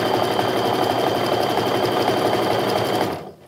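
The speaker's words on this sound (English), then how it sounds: "I can just go ahead and sew that quarter inch stitch across that top of the pocket" A sewing machine runs steadily at close range, stitching a quarter inch seam across the top of a fabric wallet pocket, its dense rapid whir holding for about three seconds before winding down.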